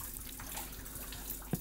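Water flows from a small spring at a historic mining site in Tarnowskie Góry, Poland, giving a steady, close, splashing trickle that continues throughout with a small drip-like blip near the end.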